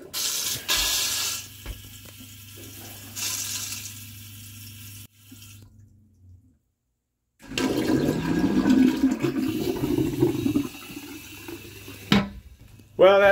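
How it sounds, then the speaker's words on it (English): A toilet in a 2017 Pace Arrow RV flushes with a rushing gurgle, goes quiet briefly, then water hisses loudly as the tank refills. "Let's do the obligatory toilet flush."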